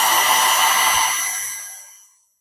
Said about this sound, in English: I'm going to heat the adhesive up a little bit directly before I apply it to the bottom of the magazine.